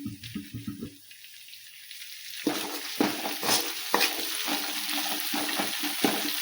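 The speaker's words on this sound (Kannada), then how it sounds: "ಈಗ ಅರಿಶಿನ ಪುಡಿ ಹಾಕ್ತೀನಿ ನೋಡ್ರಿ. ಚೆನ್ನಾಗಿ ಮಿಕ್ಸ್ ಮಾಡ್ಕೊತಾರೆ." A spoon stirs a sizzling mixture in a pan after turmeric powder goes in: a brief bit of tapping at the start, a short lull, then steady hissing sizzle with repeated scraping strokes, close and clear, with no speech.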